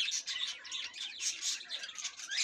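Budgerigars of various color mutations, including classic, lutino and albino, chirp and chatter continuously in a home aviary, a busy overlapping twitter at moderate distance with no talk.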